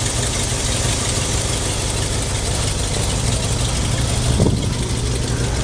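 Big 7-litre vintage car engine idling at a classic car show, a dense, rumbling low idle held steadily throughout, close and loud amid hall ambience, no speech.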